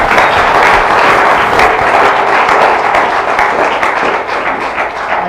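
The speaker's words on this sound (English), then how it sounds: "give yourself a round of applause" A church congregation applauds at a Sunday service: loud, dense clapping that fills the room steadily for several seconds and thins slightly toward the end, with no talk over it.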